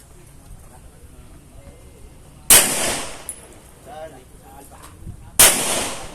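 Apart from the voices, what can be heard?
1911 pistol gunshots at practice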